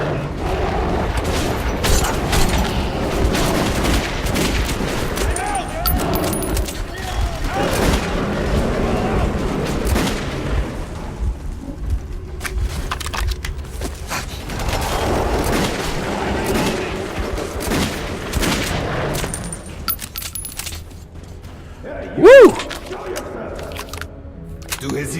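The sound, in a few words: gunfire from shooting rounds in the video game Metro 2033 Redux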